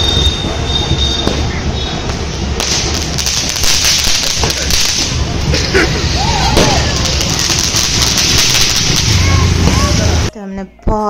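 Firecrackers bursting during a Ganpati visarjan procession in Mumbai in 2023, a dense, continuous crackle of pops and bangs amid a loud crowd roar, with voices mixed in and a sudden drop near the end.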